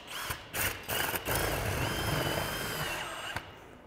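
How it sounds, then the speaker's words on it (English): A power drill drives kit screws into a roof during a DIY solar panel install, with a few short bursts of whirring followed by a longer sustained run that fades near the end. "we use the screws that are included in the kit to screw down to the roof"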